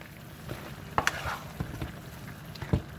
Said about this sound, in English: Now I'm gonna give it a stir.